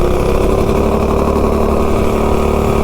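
A mini bike engine revs hard through a takeoff test run, a loud, steady near-field drone of small-engine roar that holds without a break.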